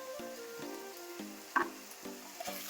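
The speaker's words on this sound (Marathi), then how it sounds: "आता याला परतून घेऊया।" Red chili powder, turmeric and salt fry in a pan with a soft, low sizzle, stirred with a few light clinks of a spoon, faint and close.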